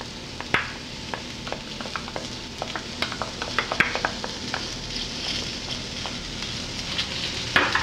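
Oyster sauce hits a pan of shrimp noodles, and a steady sizzle rises under repeated sharp clicks and scrapes of a utensil stirring against the pan.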